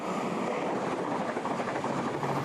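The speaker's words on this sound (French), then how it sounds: "Ça, c'est le RER." An RER commuter train runs past close to a well-kept urban garden, giving a steady, loud rolling rumble with a broadband rush that holds evenly throughout, and no one speaks over it.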